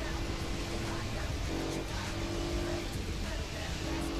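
Race car engines in Gran Turismo 4, a Saleen S7 against a Honda NSX on a wet Tsukuba circuit, giving a steady droning roar with shifting revs, loud and continuous.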